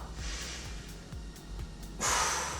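Breath pushed out during a beginner floor exercise, a steady airy exhale through the first two seconds and then a sharper, louder rush of breath near the end, close to the microphone with no talking.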